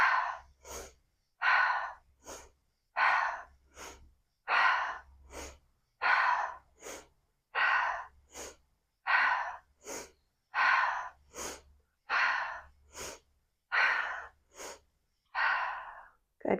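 Rhythmic alternate nostril breathing in a yoga practice: about a dozen paired cycles of a short sharp nasal inhale followed by a longer, breathy exhale, close and clear with no talking.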